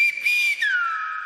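A Silbo Gomero whistled-language phrase meaning "chiquillo": a clear human whistle holding a high steady pitch, briefly breaking, then gliding downward into a lower sustained tone, solo and close.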